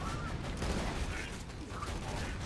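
Axton's deployed turret in Borderlands 2 firing in a dense, continuous gunfire clatter, loud and close, blended with game action noise.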